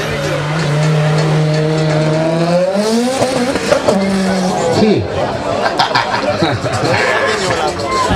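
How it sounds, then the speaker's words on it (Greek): Opel GSI 16V Turbo engine idling and warming up, a steady low tone that rises and falls as revs shift, with someone speaking over it close by. "Για να ζεστάνει λίγο το αυτοκίνητο."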